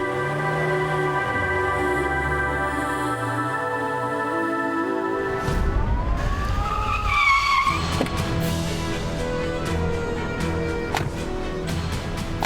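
A car in a crime-drama scene revs and speeds away with a sharp tire squeal, loud and close, following a stretch of sustained musical tones.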